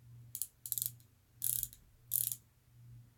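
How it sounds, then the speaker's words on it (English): A Harbor Freight metal selector-switch ratchet wrench clicking in four short bursts of rapid pawl ticks, close and crisp over a low steady hum. "I think I have one of the very few last quality Harbor Freight metal selector switch ratchets"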